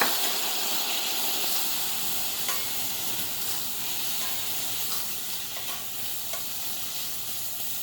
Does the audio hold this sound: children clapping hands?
no